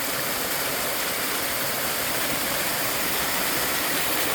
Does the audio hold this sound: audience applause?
no